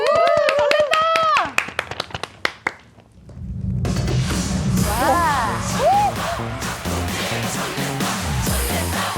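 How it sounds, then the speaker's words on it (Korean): A TV studio audience on a morning talk show gives a short burst of sharp clapping under a presenter's voice, which fades before music begins playing. "박수로 청하겠습니다"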